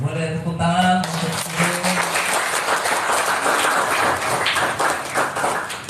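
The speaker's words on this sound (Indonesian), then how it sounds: "Boleh tepuk tangan untuk" Audience applause breaks out at a Buddhist vihara gathering during an Ullambana ceremony, dense clapping that holds steady after a voice speaks briefly at the start.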